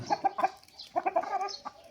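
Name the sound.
rooster clucking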